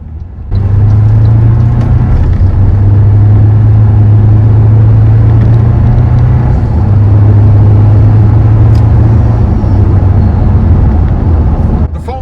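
A Toyota Tacoma SR5 pickup fitted with a Banks intake drives on the road, its engine droning loud and steady throughout with a low rumbling hum.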